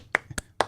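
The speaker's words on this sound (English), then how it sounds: "Congrats, fellas, with a golf clap" Three sparse, light claps spaced apart, a slow sarcastic golf clap given by a radio show co-host congratulating colleagues in a studio.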